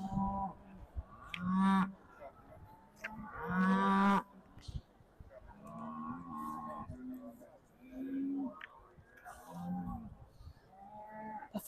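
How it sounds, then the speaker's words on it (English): Beef Shorthorn heifers at an agricultural show ring give a series of loud, drawn-out moos, several calls spread across the scene, with a babble of show-ground background noise in between. "So these are our most mature heifers."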